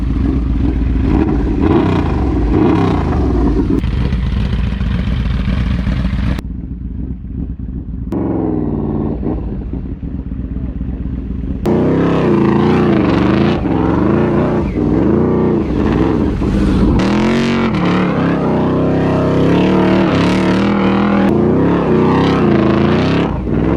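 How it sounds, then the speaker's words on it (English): Yamaha V-Max motorcycle spinning donuts in the dirt, its engine revving hard and continuously with rising and falling pitch, loud and close, with a brief lull partway through. "I'm gonna try and get some clips of donuts in the dirt"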